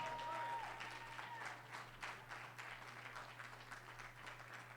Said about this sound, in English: Give our brother one more round of applause, please.